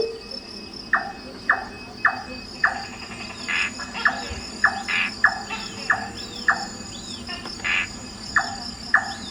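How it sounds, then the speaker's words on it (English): A nightjar sings in a Singapore forest at night, a steady series of short, evenly spaced repeated notes carrying over a constant bed of insect and cricket hum. "A nightjar's song,"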